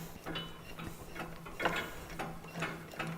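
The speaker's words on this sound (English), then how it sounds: "Taking our tool here, we then tighten down the screws." A hand tool tightens screws on a Baroig DMP01 drum mixer, giving soft, steady ratcheting clicks and mechanical rattles at close range in a quiet room.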